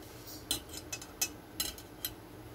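Curd being whisked in a bowl, producing a string of light, close clinks and taps that arrive in quick uneven strokes against a quiet background.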